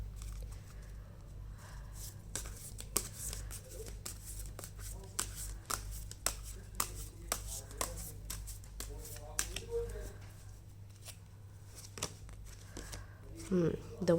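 Tarot cards shuffled by hand in repeated soft riffling and patting bursts, with speech present and a steady low hum underneath.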